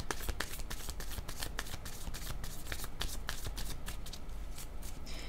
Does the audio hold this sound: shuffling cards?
yes